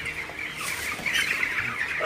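Broiler chickens about 22 days old cluck and chirp inside a hot farm shed, a busy, continuous layer of flock calls at moderate loudness with no voices.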